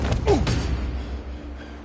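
Wooden door creaking open in Horizon Zero Dawn's Frozen Wilds forge interior: a short rising creak with knocking thumps in the first half second, then low rumbling ambience fades out.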